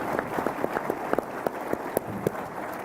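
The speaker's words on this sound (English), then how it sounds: "Let's give Reynolds another large round of applause." An audience claps in a large round of applause after a state economy speech, with scattered sharp claps over a steady clatter of hands, fairly distant and sustained.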